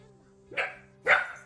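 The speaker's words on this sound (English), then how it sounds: "my dog thought somebody was at the front door" A dog gives two loud barks about half a second apart, set off when wind bumped a screen door during an indoor crochet session, with a faint steady hum beneath.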